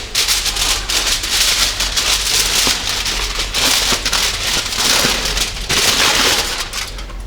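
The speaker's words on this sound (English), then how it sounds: "you can see the rapid boiling going on there" Freshly boiled water bubbles rapidly in a boiling tube set in a beaker and wrapped in aluminium foil, making a dense, continuous crackling and popping hiss, close and loud.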